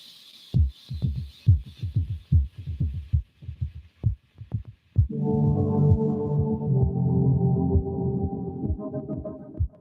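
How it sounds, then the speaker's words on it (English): A small synthesizer plays deep, pulsing bass notes in a throbbing rhythm, then shifts into a sustained, rich droning tone. "What this little tabletop synth can do."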